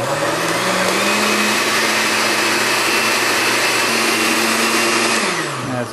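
An electric blender pulverizes twelve garlic cloves with half a teaspoon of salt, a loud steady motor whir running unbroken for about six seconds with no talking.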